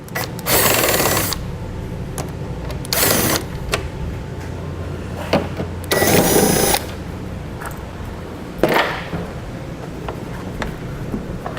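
A power driver backs out T30 screws from the headlight assembly of a 2015 Ford Fiesta in several short whirring bursts, with quieter gaps and small handling clatter between them.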